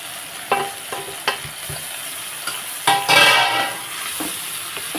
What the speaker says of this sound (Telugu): ఇప్పుడు టమాటా ముక్కలు కూడా వేసేసుకుందాం